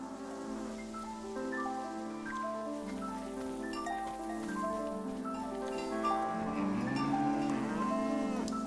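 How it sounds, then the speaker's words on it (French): Several cows moo in the farm video game Season: A Letter to the Future, long, overlapping lowing calls rising and falling in a steady chorus, fairly close and loud, with no talking. "Une autre vache, un autre nom parfait, Nelly."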